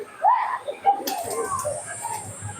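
Teddy pigeons coo in short, soft bursts close by, a couple of throaty calls over a dim background with a faint high whine, and no one speaking over them.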